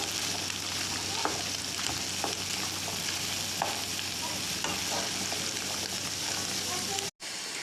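Chicken breast and carrots sizzle steadily in a hot pan while a utensil stirs through them with occasional scraping clicks, close and continuous until a sudden brief cut near the end.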